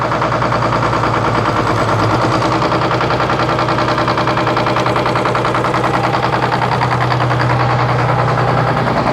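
A sawmill's engine idles steadily with the power takeoff engaged and hydraulics running, a constant loud, close mid-pitched drone with a faint knocking pulse throughout.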